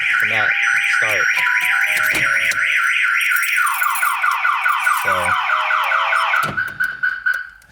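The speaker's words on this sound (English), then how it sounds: "This is kind of one of the nicer two-way alarms." A two-way car alarm on an armed car sounds loudly and alone: a rapid warbling siren, then a slower sweeping tone and a steady high beep, with a few brief low thumps between phrases.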